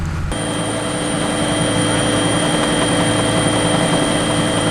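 A loud, steady helicopter drone over the sea among fishing boats, with constant rotor thrum and engine whine, close and unbroken throughout.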